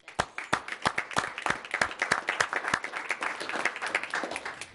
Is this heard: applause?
yes